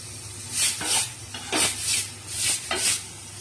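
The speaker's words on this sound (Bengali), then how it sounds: "জল দিয়ে দিয়ে কষাবো।" Spice paste frying in hot oil in a home kitchen, with water splashed in and a spoon stirring, giving repeated bursts of loud sizzling hiss that swell and fade in a rough rhythm, close up.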